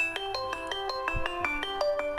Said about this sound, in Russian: включаем звук, рингтон